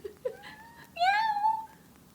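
A single drawn-out cat meow rises and falls close by in a quiet room, preceded by two short soft chirps.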